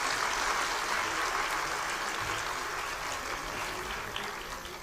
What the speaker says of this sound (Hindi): तो मैं चाहूँगी कि इस बात का स्वागत आप लोग सब भी एक राउंड ऑफ जोरदार तालियों के साथ करें।